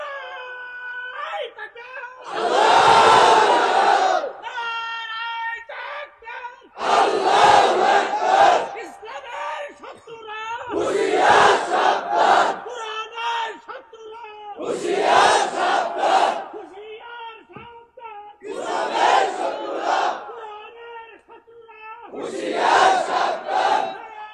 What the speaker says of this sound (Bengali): দাঁড়ায় তাকবীর দিবেন